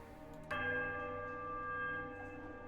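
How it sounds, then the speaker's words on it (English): A temple bell rings in a ruined temple in the Pillars of Eternity game, struck once with a sharp onset and then sustaining a bright, piercing, steady tone that lingers without fading through the whole clip. "The bell tolls a high, piercing note of startling power."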